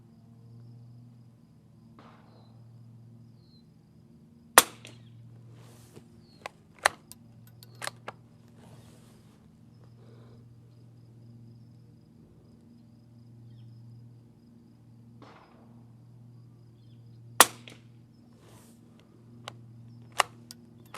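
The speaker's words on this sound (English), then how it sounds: "I'll put it on the trigger gauge with a snap cap in it and see what it comes in at" A vintage 1930 Walther Model 2 rifle being dry fired with a snap cap on a trigger gauge, with a few sharp isolated snaps and small clicks spread across a quiet, low-humming stretch.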